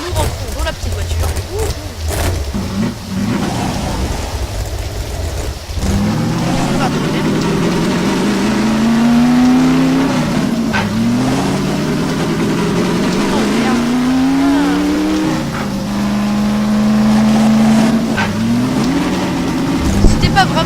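A small car's engine while driving, a continuous mid-low hum with rising and falling pitch as it accelerates and shifts through gears, loud and close, with voices briefly at the start.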